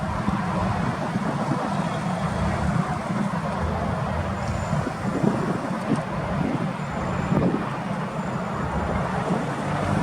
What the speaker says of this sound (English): excellent running Nissan 4-cylinder LP gas engine